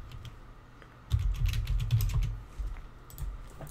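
Fingers tapping out a table name on a computer keyboard, a quick run of close, soft clicks that starts after a quiet second and trails off into a few scattered keystrokes.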